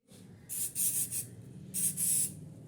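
Hairspray hisses onto backcombed hair in five short bursts, three close together then two more after a pause, fairly soft and close.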